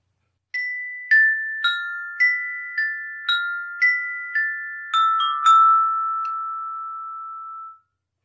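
Mallet percussion bells struck one at a time in a descending run of bright, ringing tones, about ten clear strikes with long sustained decays, the last notes overlapping and fading out, heard alone.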